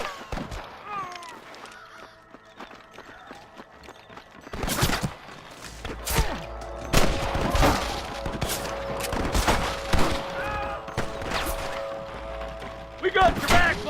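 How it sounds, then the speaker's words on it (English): Rapid bursts of gunfire crack out in a Red Dead Redemption shootout, starting midway and repeating in irregular volleys, some near and some farther off, with game voices talking over parts of it. "I can hear more gunshots."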